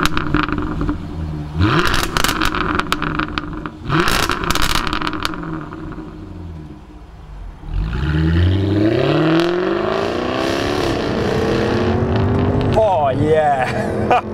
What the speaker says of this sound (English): I suggest we go out and take this F-Type for a drive.